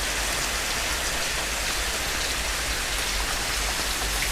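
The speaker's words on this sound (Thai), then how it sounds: "ฝนตกตก" Steady, dense rain falls throughout at a street fried-rice stall, a continuous even hiss with no pauses and no voices.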